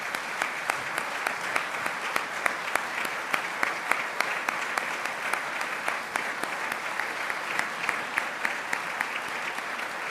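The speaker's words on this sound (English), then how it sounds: "A big round of applause, and please, for all 15 employers, stand up for us." Sustained audience applause for employers at a defense employer support award ceremony, a dense even clapping that stays steady throughout with sharp individual claps poking through.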